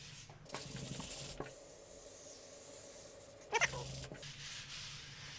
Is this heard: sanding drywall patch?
yes